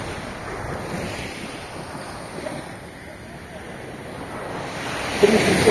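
Sea waves washing onto the beach at East Coast Park, Singapore: a continuous soft surf roar mixed with wind buffeting the microphone, swelling louder near the end.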